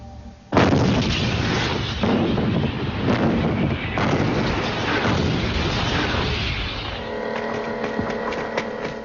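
Tank guns fire in a series of loud, heavy booms with rumbling echoes, followed by a lingering hum from the battlefield; no voices are heard.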